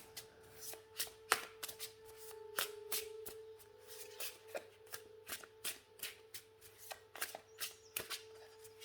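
A tarot deck of enchanted forest spirit cards being shuffled by hand, with quick, close, soft riffling bursts repeating in an uneven rhythm and no talking.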